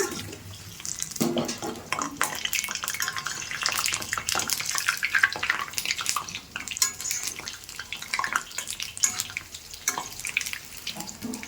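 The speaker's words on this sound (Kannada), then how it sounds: "ಇವಾಗ ಆಗಲೇ ಕರೆದಿಟ್ಟುಕೊಂಡಂತಹ ವಡೆಗಳನ್ನು ಕೂಡ ಇವಾಗ ಸೇರಿಸಿ ಕರೆದು ತಕ್ಕೊಳ್ಳೋಣ" Urad dal vadas deep-frying in hot oil, a continuous crackling sizzle with fluctuating bursts of bubbling, close and fairly loud, with no talk over it.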